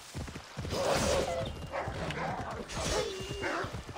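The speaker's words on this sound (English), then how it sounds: "Oh, look, wolves." Wolves in the Assassin's Creed Odyssey video game, yipping and barking dog-like cries over continuous game ambience, with faint hoofbeats mixed in and a voice talking partway through.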